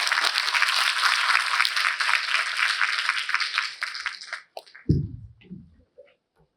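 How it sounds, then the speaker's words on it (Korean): Audience applause at a talk concert event greets a company vice president taking the stage, dense clapping filling the first four and a half seconds before fading out, followed by a short spoken voice. "큰 박수로 강연자 SK하이닉스 손호영 부사장님을 모시도록 하겠습니다."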